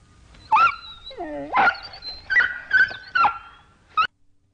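A dog yelps and whimpers in a series of sharp, high cries, six or so bursts in quick succession, close by with no other sounds.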